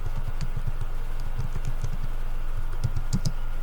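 Quick, light taps on a computer keyboard come in short irregular runs over a steady low electrical hum, with no talking.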